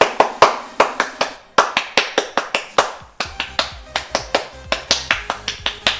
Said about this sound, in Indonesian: ayo kita lagi tepuk pramuka.